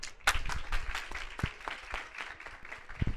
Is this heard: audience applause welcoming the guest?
yes